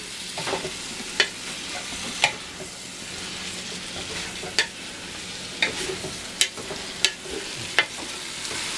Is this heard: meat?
yes